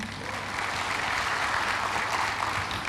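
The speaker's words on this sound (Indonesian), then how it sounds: "beri tepuk tangan nih buat mereka nih" Steady, dense applause from a church congregation, sustained and even throughout with no pauses.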